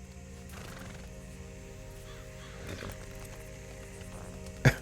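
A horse in Red Dead Redemption 2 gives a short, sharp snort or whinny near the end, loud and close, after a stretch of low steady game ambience with a couple of faint hoof or movement sounds.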